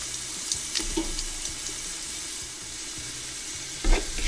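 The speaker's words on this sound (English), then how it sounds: "you're going to saute the garlic for 1 minute" Garlic sautéing in a pan for chili, a steady close sizzling hiss with faint soft clinks and a brief louder scrape near the end, no voices.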